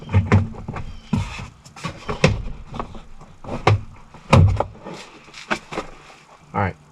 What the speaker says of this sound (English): This door panel is just going to lift up and out